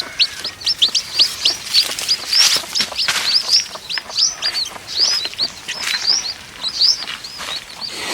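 Young chicks chirp in quick, high, repeated peeps, loud and close, with several birds overlapping in a continuous busy chatter.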